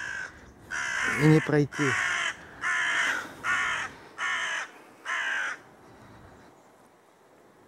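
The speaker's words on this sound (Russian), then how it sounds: "А что-то вороны совсем тут с ума посходили." Crows caw repeatedly along the flooded bank of the Yenisei near a monastery, six or seven loud harsh calls in an even rhythm fairly close, with someone speaking briefly over the early calls.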